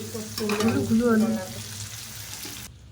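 Potatoes being sautéed in oil in a pan give a steady close sizzle with stirring, while someone talks loudly over the first half; the frying fades and cuts off near the end.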